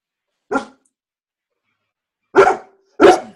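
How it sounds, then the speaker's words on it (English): A dog barks three separate times: one short bark, a long pause, then two louder barks close together, near and clear with no talk over them. "Dog barking."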